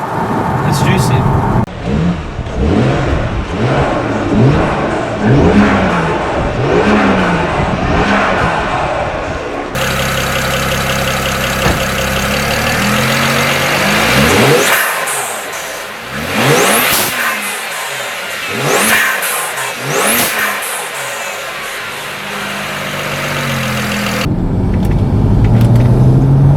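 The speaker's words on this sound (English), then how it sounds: "there was a difference in sound. More aggressive, more of a sucking sound under the revs" BMW 335i engine with an Arm Motorsport 7-inch intercooler revving repeatedly, loud and close, rising and falling in a series of throttle blips with an aggressive intake note.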